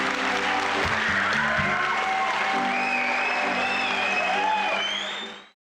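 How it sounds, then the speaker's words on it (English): Theatre audience applauding winners of a Young Playwrights Festival at a Sarasota studio theatre, sustained dense clapping from a full room with a few whoops, then fading out. "Won't you please join me in applause for the winners in the Young Playwrights Festival?"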